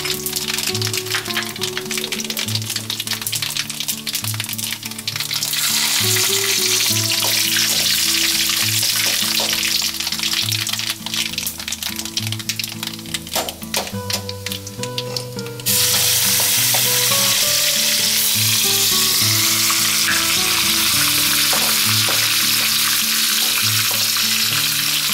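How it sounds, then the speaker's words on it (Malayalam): Mustard seeds and urad dal crackle and splutter in hot oil in a home kitchen pan, a loud, steady sizzle with dense popping that carries on throughout and swells brighter partway through. "ആദ്യം കടുക്, ഉഴുന്നുപരിപ്പ് പൊട്ടിക്കാം."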